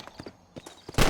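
Hooves clip-clop in a quick uneven run from a horse in the video game Red Dead Redemption, crisp and fairly close, ending on a louder burst.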